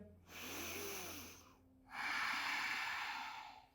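Deep yoga breathing, a long audible inhale followed after a brief pause by a longer, stronger exhale, close and airy, with no speech over it.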